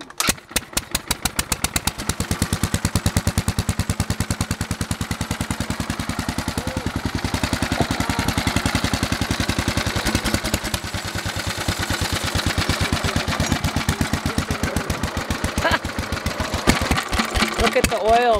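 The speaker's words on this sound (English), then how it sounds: "This is a garden tractor from the 20s." A 1920s garden tractor engine starting and settling into a steady, rapid chugging idle, loud and close for the whole stretch, with people talking faintly in the background.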